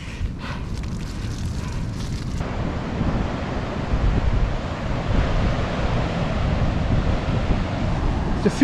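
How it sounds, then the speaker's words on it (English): Ocean waves wash onto a shore beside a coastal road under steady wind noise, a broad continuous surf roar filling the clip with a brief rustle of other sound at the start. "There's a few waves kicking around today"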